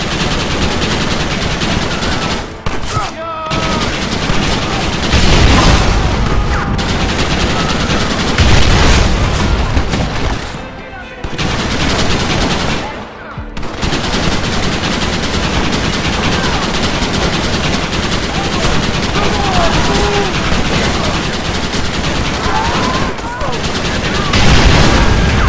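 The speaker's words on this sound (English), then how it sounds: "You man the Gatling gun, Marston!" A Gatling gun in Red Dead Redemption 2 fires long, loud, rapid bursts with booming impacts, pausing briefly a few times, while voices shout over the gunfire.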